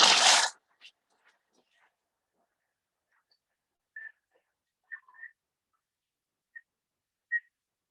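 A Thermomix TM6 chops ingredients in one loud, brief whirring burst at the start, then goes quiet apart from a few faint, short electronic beeps.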